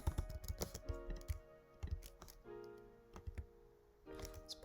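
Light plastic keys on a computer keyboard clatter in short bursts and quick runs of taps, close and fairly quiet, with brief pauses between typed words and no talking.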